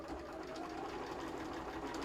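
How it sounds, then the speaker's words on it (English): A sewing machine hums quietly and continuously while piecing a quilt block, a soft even mechanical whir with no speech. "just sewing this one together"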